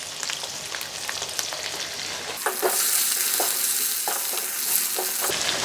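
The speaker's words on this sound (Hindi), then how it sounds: "इसमें थोड़ा सा पानी ऐड करते हैं ताकि टमाटर अच्छे से सॉफ्ट हो जाएं।" Tomatoes and water sizzle and bubble loudly in a frying pan, with a steady hiss, a few sharp stirring scrapes and clinks, and no talk.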